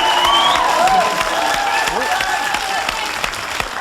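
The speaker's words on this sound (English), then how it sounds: "Some Fianna Fáilers booing there." A studio audience at a comedy panel show reacts loudly with a mix of jeers and boos, voices swelling together in a crowd roar that tapers off slightly toward the end.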